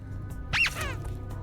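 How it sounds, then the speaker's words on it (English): A small creature in the video game Pathologic 3 lets out a single brief, high squeak over a quiet background hum. "They made a little squeaky sound."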